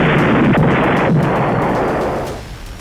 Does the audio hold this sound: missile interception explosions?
yes